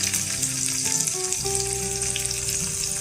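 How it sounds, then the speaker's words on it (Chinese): Hot oil, heated until just smoking, poured into a mixed sauce for a garlicky clam noodle dish, letting out a loud, continuous close sizzle with no voices. "然后将热油倒入调好的酱汁中"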